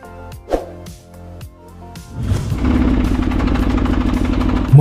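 Diesel-engined motorcycle running close by: slow, distinct chugging knocks at idle, then a louder, steady, rough clatter as the revs pick up, very noisy throughout.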